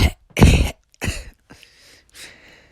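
A person coughs harshly several times in uneven bursts, each fading shorter and quieter, close up with no speech.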